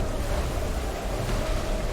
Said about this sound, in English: the waves are pushing me back